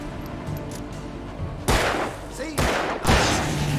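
Gunfire in the video game Alan Wake Remastered: two or three loud, sharp shots with broadband bursts about a second apart, each trailing into a short echo, over a low in-game ambience.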